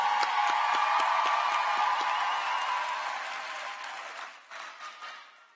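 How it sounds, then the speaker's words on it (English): A high school graduation audience gives the class of 2023 a burst of applause that fills a large hall, fading gradually into scattered claps and cheers. "let's clap for them"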